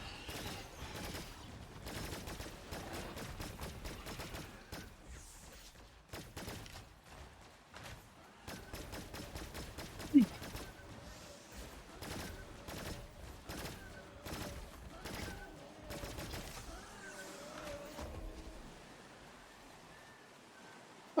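Rapid bursts of gunfire cut down angry enemies in the Cygnus Enterprises game, with dense clusters of sharp shots fading in and out over a faint background and one louder crack near the middle.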